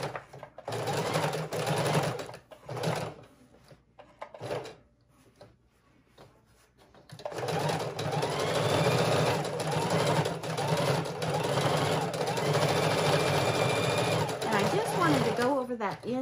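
A sewing machine stitches fabric for a junk journal cover, running in long steady whirring stretches with a short pause near the middle, while a person talks over it.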